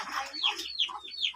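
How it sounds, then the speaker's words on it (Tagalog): A mother hen clucks in short bursts, several quick calls close by in an outdoor farmyard. "Ay, yung inahin pala."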